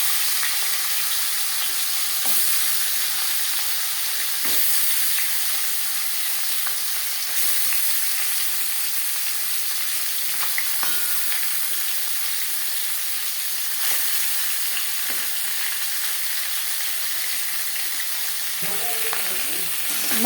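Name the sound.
marinated bhetki fish bones frying in refined oil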